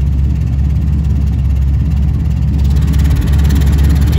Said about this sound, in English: I think there's an exhaust leak.